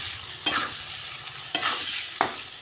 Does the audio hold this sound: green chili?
yes